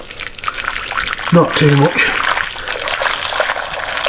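Hot water pours into a slow cooker holding chicken stock cubes, onion gravy and pheasant, a continuous splashing trickle under a brief spoken remark.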